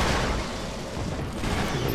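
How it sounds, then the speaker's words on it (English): Gunfire in the Killzone 2 video game, Helghan Industries warzone map: dense, continuous rattling volleys of shots with low booms, loud and steady throughout. "I love the sounds of the gunfire."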